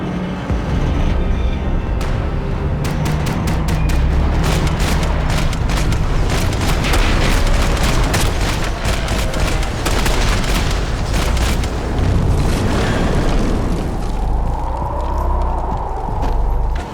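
Heavy gunfire in the video game Max Payne 3, dense repeated shots and booming impacts over a loud, continuous rumbling battle soundscape with no pauses.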